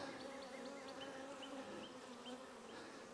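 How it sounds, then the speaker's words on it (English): A dense, steady buzz of many honeybees at a hive, heard up close and continuous, with individual bees passing near at intervals. "Good looking bees."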